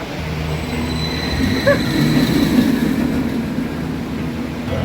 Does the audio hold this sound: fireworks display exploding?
no